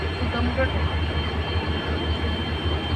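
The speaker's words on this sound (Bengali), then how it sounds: "আগরতলা ট্রেন চলে এলো" A train arriving at a station, bound for Agartala, rumbles close by with a steady low drone and clattering rail noise, faint voices in the background.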